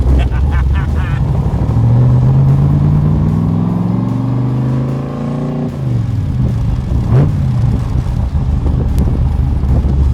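A 500-horsepower engine in a 2,800-pound 1965 Backdraft Cobra revs loudly up through a rising climb, drops sharply, then blips again, with a constant low rumble throughout and a voice talking briefly over it.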